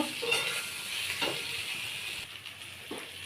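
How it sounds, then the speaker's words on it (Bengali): Pointed gourd being stirred with spices in a hot pan: a soft continuous sizzle under a few scraping sweeps of a spatula, spaced irregularly and fairly close. "মশলার সঙ্গে পটলগুলো অল্প নেড়ে চেড়ে নেব"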